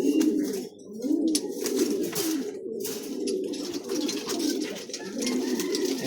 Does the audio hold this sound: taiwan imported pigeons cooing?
yes